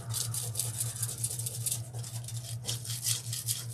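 A brush strokes over foil adhesive on a wooden tier tray with quick, close, rhythmic scratchy swishes, steady against a faint low hum.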